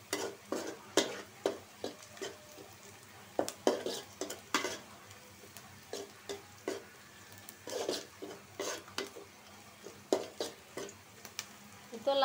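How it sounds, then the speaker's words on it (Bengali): Lentils and potatoes are stirred in a pan for a Bengali bhuna-style dish. A spatula scrapes repeatedly in an uneven rhythm over a soft, steady sizzle, with no talking. "ভাজির মতোই ভুনা ভুনা করে নেব"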